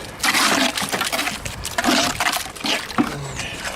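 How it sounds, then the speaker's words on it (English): Water poured and splashed onto a wall to wet it before plastering with polypropylene-fibre mortar, in several loud close bursts of splashing and trickling separated by short pauses. "Fill this with water and you wet it."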